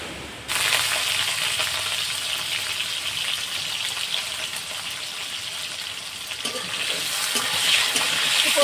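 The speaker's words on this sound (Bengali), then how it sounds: "প্রথমে আলুটা ভেজে নিচ্ছি।" Potatoes fry in hot oil for a Bengali dish, a loud steady sizzle that starts abruptly after a brief moment and runs on without pause, with no voices over it.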